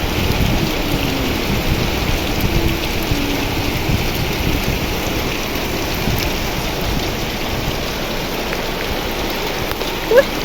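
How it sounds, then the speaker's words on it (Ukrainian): Hail falls with heavy rain outdoors, a dense constant hiss of pelting drops over a low rumble, loud and steady throughout with a brief knock near the end. "А, є, дивіться, опять град падає."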